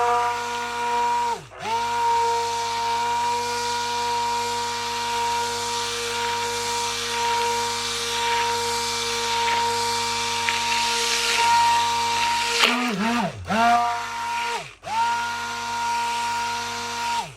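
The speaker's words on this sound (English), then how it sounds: "I prefer to use a hand blender" Hand blender whirring steadily as it mixes skin cream, a loud continuous electric motor hum with brief dips in speed where it is stopped and restarted near the start and toward the end.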